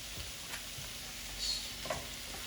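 Shrimp sizzle quietly in a stir-fry pan alongside snap peas, a faint steady frying hiss with a few soft stirring clicks and scrapes, no voices.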